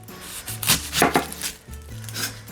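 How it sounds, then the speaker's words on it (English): A knife slices through an onion on a cutting board, several close crisp cuts with sharp thuds against the board in an uneven rhythm, with no voices. "Let's slice this one open."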